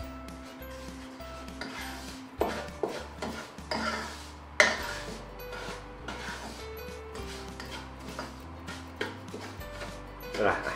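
Semolina roasting in a pan while being stirred, giving repeated soft scrapes and clinks of a spoon against the pan over a low hum, close but fairly quiet.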